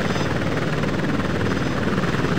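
Apache Longbow attack helicopter in a flight game lifting off, a loud, steady rotor and turbine roar filling the whole moment with a constant high whine on top.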